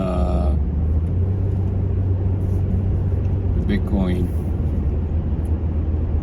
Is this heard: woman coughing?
no